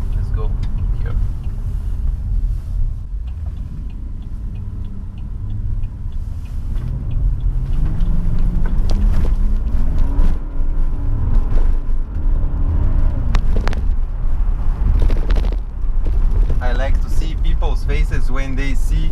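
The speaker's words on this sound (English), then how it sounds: "when they see a V8 7 Series drifting" A BMW 745i E65 7 Series with a V8 engine drifting through city traffic, its engine rumbling loud and close from inside the cabin and rising and falling in pitch, with people talking over it.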